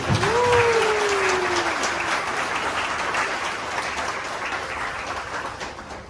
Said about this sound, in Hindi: एक अच्छी ताली प्रभु के लिए